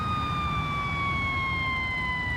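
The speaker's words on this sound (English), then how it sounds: "with the siren blaring" A fire truck siren in the firefighting simulator Ignite, a steady wailing tone with slowly falling pitch, loud and continuous over a low engine rumble.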